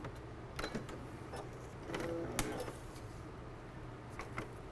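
A sewing machine runs quietly while stitching a quarter inch seam along a tape guide, making a faint rhythmic mechanical whir with soft ticks and no speech.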